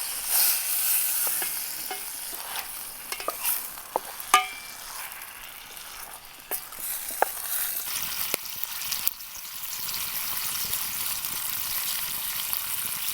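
Brook trout fillets fry in a pan with a steady soft sizzle, broken by sharp pops and crackles and a few scraping clicks from a turning utensil; no one speaks.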